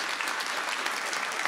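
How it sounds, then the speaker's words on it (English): Brief, dense applause from the crowd at a Christmas charity concert, many hands clapping together in a steady, unbroken burst. "So let's give a round of applause for Give Kids the World and what they do."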